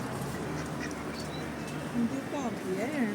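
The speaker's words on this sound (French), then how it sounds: "Et le gros canard qui est là." A large duck quacks with short nasal calls near the end, amid a noisy outdoor scene with birds and people talking in the background.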